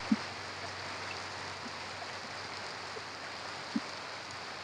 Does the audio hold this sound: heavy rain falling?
yes